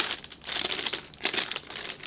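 A plastic bag that held stickers for LEGO Super Mario NES set instruction books crinkles and rustles close up, a continuous irregular crackling handled for a couple of seconds with no voices.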